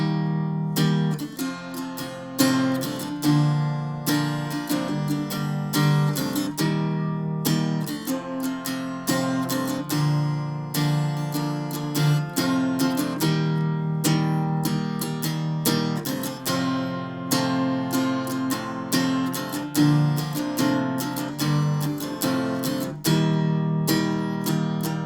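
Strummed guitar chords from the chorus of a song, a full, even rhythm of chord strokes played close for about twenty-five seconds with no talking.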